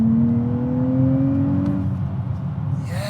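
A new Nissan Z sports car engine pulls hard under acceleration, its steady rising drone climbing in pitch for a couple of seconds before a brief shift, loud and close from inside the car.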